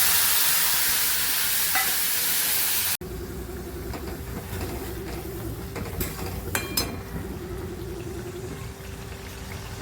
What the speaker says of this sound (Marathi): तर आपण ह्याच्यामध्ये अगोदर हे अद्रक लसूणची पेस्ट घालणार आहोत. पेस्ट भाजली की आपल्याला टोमॅटो प्युरी घालायची.